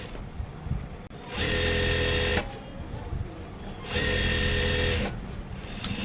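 An electric sewing machine stitches a double-folded hem on a chudithar top in two loud, steady bursts of about a second each, separated by quieter pauses with faint handling noise.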